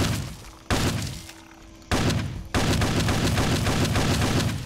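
Shotgun blasts in the game Fallout 3: three loud, heavy booms with decaying tails, the last followed by a sustained roar of continuing fire.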